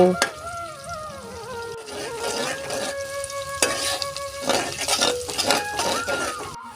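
Sliced onions fry in oil with cinnamon, peppercorns and bay leaves, giving a lively sizzle broken by scraping stirs and light clinks of a utensil against the pan.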